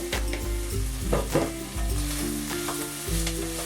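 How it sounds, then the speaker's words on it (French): Soy granules stirred into onions frying in a pot, a close, continuous sizzle broken by repeated scraping strokes of the spoon at an uneven rhythm, with no voices. "Je vais prendre mes graines de soja que je vais mettre dans les oignons, que je vais incorporer dans la marmite."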